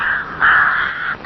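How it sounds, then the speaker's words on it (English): Crows in a cartoon give a loud, close caw, one sustained harsh call following a shorter one, with nothing else heard. "Cries Rupert, waving the old hat at the crows"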